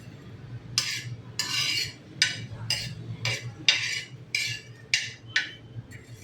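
A spatula scraping and stirring ingredients being lightly roasted in a pan for mirchi vada, with about a dozen short scraping strokes in a steady rhythm over a low kitchen hum.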